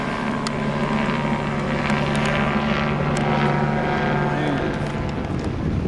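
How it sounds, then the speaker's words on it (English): Police helicopter circling above a south Phoenix police chase scene, a constant loud rotor drone with a low throbbing hum that holds steady overhead. "we got the heli up"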